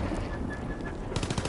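Rapid gunfire in a World War II shooter game, a fast burst of crackling shots rising near the end over a dense, rumbling battlefield din.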